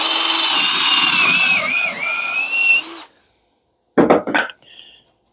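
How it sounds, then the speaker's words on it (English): A power drill bores a dowel hole in wood through a Milescraft Jointmate dowel jig, whining loudly and steadily for about three seconds before stopping, then a few brief clattering knocks follow. "and then drill your hole"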